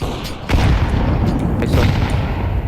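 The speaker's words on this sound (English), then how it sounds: "Throwing a flashbang. Flashbang. Grenade." A grenade explodes in a tactical shooter game with a heavy, booming blast that rumbles on, followed by more sharp bangs and gunfire echoing close by.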